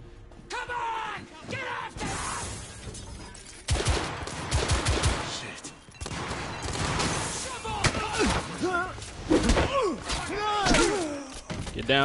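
Gunfire bursts and thumping shots from the Victorian-era shooter game The Order: 1886, firing in clustered volleys through a combat scene, mixed with game dialogue and a player talking over the action.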